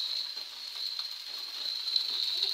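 Salted masala fries in a pan with a soft, even sizzle and faint crackle under a thin, steady high tone, quiet and close, with no talking.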